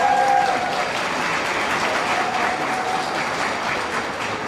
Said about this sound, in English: Round of applause for the team.